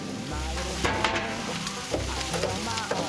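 Steady sizzle of prawns frying on a braai, with occasional stirring clatter, close and continuous, no voices.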